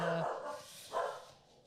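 Two sharp dog barks, a second apart, sound fairly close in a quiet room.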